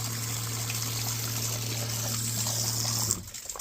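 Water from an on-board boat sink trickles and runs out the side while the washdown pump hums low and steady underneath, both cutting off abruptly near the end.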